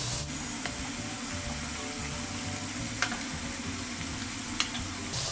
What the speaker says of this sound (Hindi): अब जो है हमारे इंग्रेडिएंट्स को हम अच्छे से मिक्स कर देते हैं